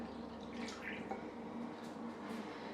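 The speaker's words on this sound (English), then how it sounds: "So then you're going to pour in your almond milk," Almond milk poured into a mixing bowl of dry ingredients for a baking batter, a soft, steady liquid trickle at low level with faint drips, heard alone without talk.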